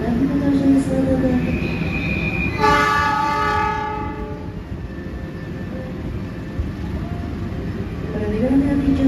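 KA Pasundan New Generation economy passenger train pulling out of track 3 at a station, a loud horn-like tonal blast near the middle over steady rumbling rail noise and station ambience, with faint voices.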